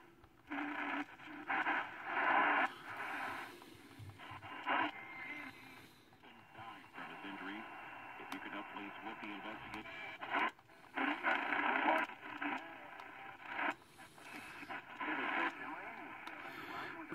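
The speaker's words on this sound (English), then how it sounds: "Makes a little noise as you turn the wheel." AM band static and hiss from an Arbor Day Foundation CN-R1093FM radio as the tuning wheel turns, a fluctuating, warbling noise that swells and drops across stations, fairly quiet and close, continuous with no clear talk.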